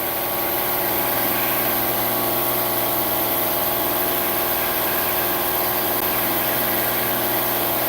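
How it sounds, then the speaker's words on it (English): An air compressor in an automotive repair garage runs steadily and loudly, a continuous droning motor hum with constant vibration and no pauses. "I'm going to try to hold off until that air compressor is done"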